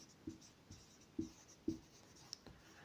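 Pen or marker writing on paper during a maths lesson, with several soft, separate scratching strokes in an irregular rhythm, quiet and close, with no talking.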